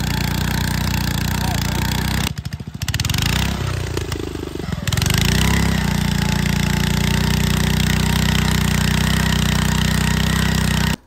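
A two-man earth auger drills pier holes on a steep hillside for a ground-mount solar array, its engine droning loud and steady throughout, with a brief dip and change in load partway through as it bites into the soil.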